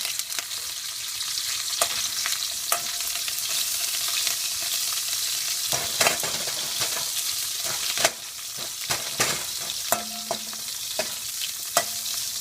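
Paneer frying in a pan with urad dal and chana dal for a paneer spinach curry, a constant close sizzle punctuated by sharp spatula scrapes and taps, without talk.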